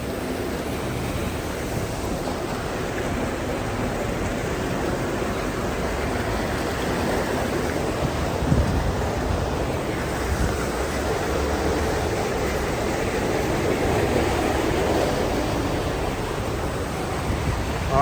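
Floodwater rushes steadily across a road and pours into the gutters in Gambia, a dense, unbroken wash of noise holding at the same level throughout with no talking.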